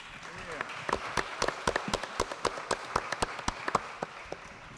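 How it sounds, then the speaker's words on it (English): A small audience at a public forum gives a round of applause, scattered distinct claps at a moderate distance in a steady uneven patter, with faint voices underneath. "Can we give Trina another big round of applause"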